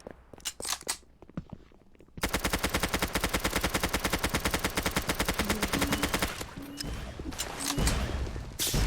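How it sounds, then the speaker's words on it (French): Rapid automatic gunfire in a video game, a long sustained burst of evenly spaced shots after scattered earlier single shots, loud and close, followed by more bursts and impacts. "Pourquoi j'ai l'impression que ça tire là-bas?"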